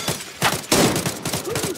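Gunshots in the video game Arena Breakout Infinite, a quick volley of loud, close rapid-fire shots in short bursts over under two seconds.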